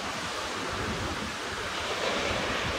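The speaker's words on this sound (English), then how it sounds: "Proper Atlantic Ocean, that. Look at them over there. That's proper surf there. Proper rollers, them." Atlantic Ocean surf rolls in steadily off Lanzarote, a continuous broadband wash of breaking waves with some wind rumble and no voices.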